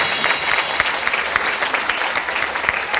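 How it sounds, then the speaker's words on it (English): Audience at a Bakersfield community theater event applauding a local performer, a dense, steady wash of many hands clapping close by with no talk over it. "Please give her a round of applause."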